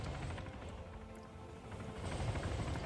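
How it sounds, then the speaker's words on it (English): In the Arma 3 video game an attack helicopter flies low, a continuous throbbing rotor rumble with engine whine that swells louder toward the end, heard alone without talk. "Another attack chopper flying low."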